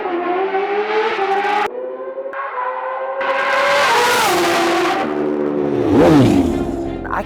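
A custom Kawasaki Ninja H2 motorcycle engine revs repeatedly, its pitch climbing and dropping through sharp gear-like steps, with short gaps between loud high-pitched whining pulls.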